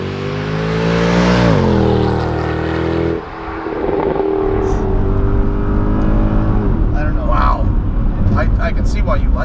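A Mercedes-Benz CLK63 AMG Black Series with a naturally aspirated V8 pulls hard, its engine note climbing in a loud rev, dropping at a shift, then droning on beneath people talking inside the cabin.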